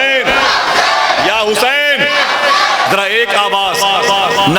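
A crowd at a religious gathering loudly chants Ya Husain together, repeated rhythmic collective shouts in quick succession, close and forceful throughout.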